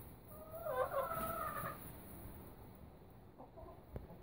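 A few soft, rhythmic clucks from chickens nearby in the first half, fading into quiet outdoor ambience with a faint knock near the end.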